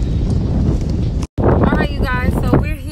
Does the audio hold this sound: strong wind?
yes